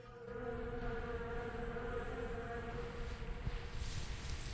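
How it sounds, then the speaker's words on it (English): Bees droning continuously on the ground at an abandoned mansion, a steady close buzzing hum with no talk, fairly faint against soft background noise. "Let's see, look, the bees."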